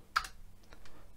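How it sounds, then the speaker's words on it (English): A few light, quick key presses on a Commodore 128 keyboard, faint and close, with one sharper tap followed by softer clicks. "And the keyboard works amazing. I'm almost not touching the keys at all."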